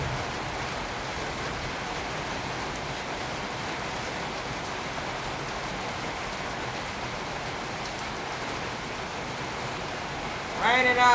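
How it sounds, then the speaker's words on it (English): Steady rain falls outside, a continuous, even hiss of drops lasting throughout, with a brief louder swell right at the end. "It's raining."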